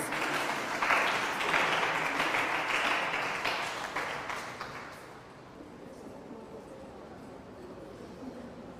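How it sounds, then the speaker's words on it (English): An audience at a Ghanaian school Bible quiz contest applauds to welcome two contestants. The clapping is steady and dense at first, then thins out and fades into quieter room noise halfway through. "as we welcome our 2 fine ladies with a round of applause"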